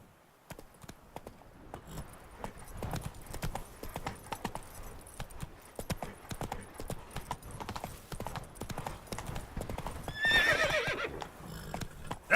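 Roach, a horse in The Witcher 3, gallops with rapid rhythmic clip-clop hoofbeats near and loud, broken by a sharp whinny toward the end.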